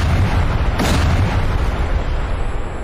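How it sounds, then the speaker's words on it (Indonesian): A single loud, deep boom erupts just outside a building in a film scene, a broad blast that rolls on under a low rumble for a few seconds without voices. "terdengar suara dentuman dari luar gedung"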